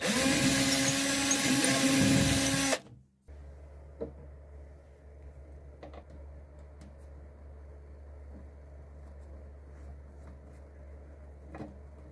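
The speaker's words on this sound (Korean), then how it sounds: "이제 손잡이를 달아줄 위치를 잡아서 손잡이를 끼워줄 볼트 구멍을" Power drill boring bolt holes for a handle on a storage box turned into a dog house, a loud whirring burst that stops abruptly, followed by a low steady hum and faint clicks and taps.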